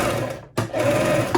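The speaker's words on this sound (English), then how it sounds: "I'm going to stitch 2 at a time, all the pieces together" A sewing machine stitching fabric pieces together, running loud and close in a steady mechanical whir that stops briefly and then starts again.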